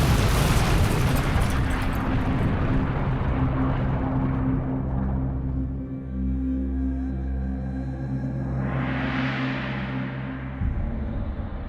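A cinematic Big Bang explosion: a deep, sustained rumbling boom fills the sound, followed by a rising whoosh sweeping upward near the end, all loud and without voices.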